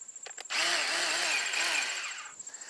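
A first-generation battery-powered chainsaw's electric motor whirs up after a few clicks, running for about two seconds with a wavering whine before spinning down.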